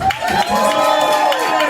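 Audience at an evening strongman street show cheering for a volunteer, a brief loud crowd shout with mixed voices and a bit of clapping.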